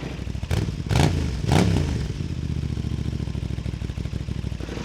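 A Tuono 660 Factory motorcycle with an SC Project exhaust and the dB killer fitted idles with a deep, lumpy burble, punctuated by two quick, loud throttle blips close to the microphone before settling back to idle.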